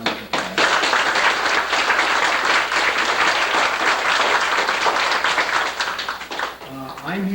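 Dense applause for two teachers at a small education center graduation ceremony, loud and sustained from many hands, tapering off near the end.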